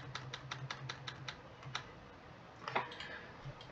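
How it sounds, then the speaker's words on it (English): Computer keyboard arrow keys pressed while working in a 3D parts design program: a quick run of about eight crisp, evenly spaced taps, a pause, then a softer cluster of clicks, close and alone over faint hum. "I am going to use the arrow keys to bring this out"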